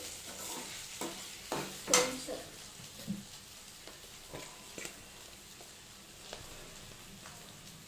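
Okra being stirred in a pan with chili powder and coriander powder, a soft scraping and faint sizzle broken by a few sharper spoon-on-pan knocks, close and quiet with no talking.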